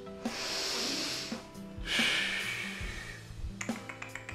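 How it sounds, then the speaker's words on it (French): Deep inhalations demonstrated up close, each a long breathy hiss of air drawn in, separated by short pauses and light taps, with no speech. "si je vous demande de prendre une profonde inspiration, il y a de fortes chances pour que vous me fassiez ceci"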